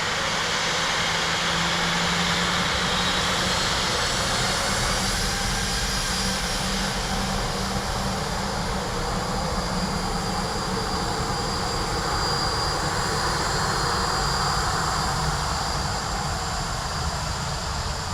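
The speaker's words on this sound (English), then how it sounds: "Another British Airways from Heathrow next, this time a 321 Neo." A British Airways Airbus A321neo from Heathrow at Dublin Airport, a sustained broad jet engine rumble and hiss that stays constant and fairly loud across the whole stretch, with no talking.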